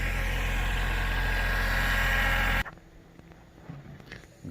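A tractor engine idles loud and steady with a low rumble for a few seconds, then cuts off abruptly, leaving faint ambient sounds outdoors while a tree is being taken down.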